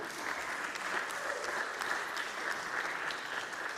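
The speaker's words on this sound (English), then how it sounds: "Give this man a round of applause for his comic jokes and music at noon" A small outdoor noon-concert audience in Sacramento, California claps for a comic musician, with an even patter of hands, fairly quiet and steady throughout with no speech over it.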